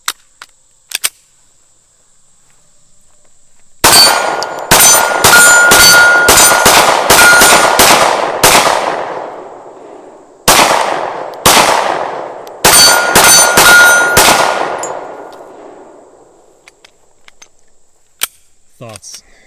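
A Mossberg MC2C pistol fired outdoors in rapid strings of sharp, ringing shots, about fifteen in all across three volleys with short pauses, plus a few isolated pops and clanks before and after.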